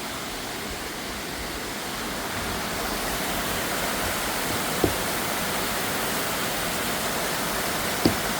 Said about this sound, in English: Reaching the Thundering Falls.